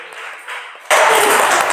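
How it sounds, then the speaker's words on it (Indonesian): After a brief faint ping, a classroom of children in Indonesia bursts into loud, dense applause that holds steady to the end. "tepuk tangan untuk kita semuanya"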